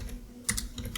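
Code is typed on a computer keyboard in a quick run of several close, crisp keystrokes over a low steady background hum.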